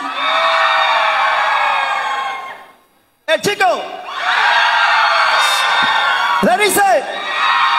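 Crowd at a live contest show in Siuna cheering, whooping and clapping loudly for contestants, a sustained roar that dips briefly then surges again, with a host's voice cutting in over it.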